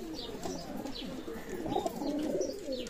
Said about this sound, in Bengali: এটা হচ্ছে বাটেরা কবুতর রানিং পেয়ার